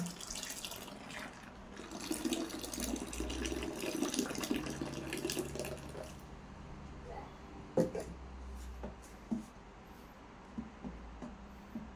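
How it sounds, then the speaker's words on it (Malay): Salt water poured gradually into a homemade liquid laundry soap mix makes a running, splashing pour for about six seconds, followed by quieter drips and small knocks. "sekarang kita akan tuangkan air garam ni berperingkat"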